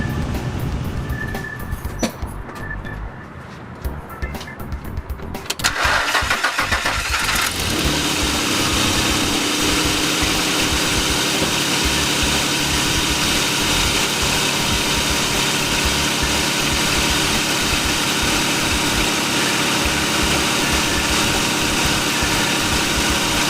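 A Nissan Pathfinder engine, recently fitted with new injectors and spark plugs, cranks and catches after a few seconds, then settles into a steady, loud, even idle that runs on uninterrupted.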